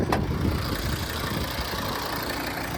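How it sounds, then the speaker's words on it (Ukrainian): A 2014 Volvo V60 D4 five-cylinder AWD automatic idles with the bonnet open, giving a steady, close, even engine rumble with a brief click near the start and no talk. "Подивіться на роботу двигуна."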